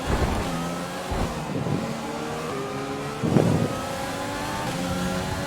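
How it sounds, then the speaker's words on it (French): A Renault Formula 1 car engine in the F1 2020 racing game roars steadily, swelling and easing with gear changes and a sharp rev burst partway through, loud and alone with no talk. "On va lui montrer la puissance du moteur Renault."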